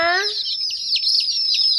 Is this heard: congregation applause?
no